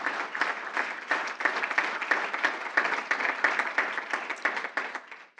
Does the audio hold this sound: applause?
yes